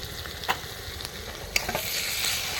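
Chopped tomatoes frying in a spiced masala in a pan, giving a steady close sizzle with a few sharp stirring clinks and scrapes, no voices.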